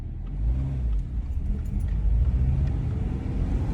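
A manual-transmission car pulls away in second gear while a learner drives stick, its engine a steady low rumble and drone that holds close and loud for the whole stretch with no voices over it.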